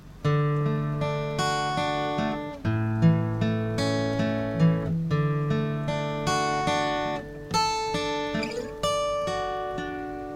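Solo acoustic guitar playing the intro of a song, a slow, gentle passage of rolled chords and single notes, each ringing out before the next, with no voices.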